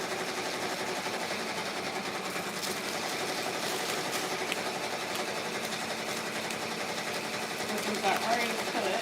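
An embroidery machine stitching a monogram onto a shirt, running as a fast, even mechanical whir with rapid needle ticking at moderate loudness, uninterrupted throughout.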